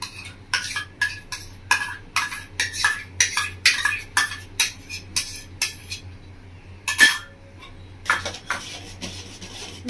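A spoon stirs mango pulp into thickened milk kheer in a pot, making repeated scraping, clinking strokes against the metal in a quick rhythm, with a short pause before the stirring resumes, close and clear.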